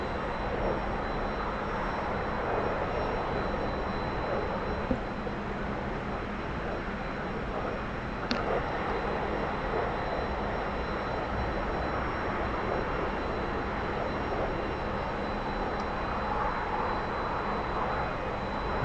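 Steady broadband roar of a T-45 Goshawk trainer jet in the DCS flight simulator, holding a constant, fairly quiet drone throughout with no clear rise in pitch and no voices over it.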